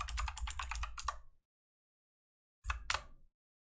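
Keys clatter on a computer keyboard in a quick burst of typing, then silence, then a second shorter flurry of keystrokes, close and fairly quiet.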